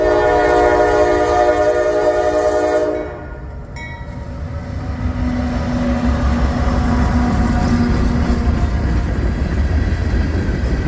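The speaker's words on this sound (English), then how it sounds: "third train of the day coming through. This is another Norfolk Southern" Eastbound Norfolk Southern mixed freight train passing close by, a loud horn blast at the start cutting off into a steady heavy rumble and roar of rolling cars that carries on to the end.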